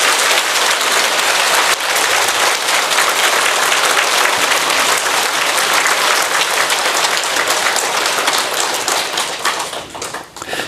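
Sustained, dense audience applause at a Buddhist Dharma talk by a monk, loud and even throughout, with many hands clapping at once and tapering slightly near the end.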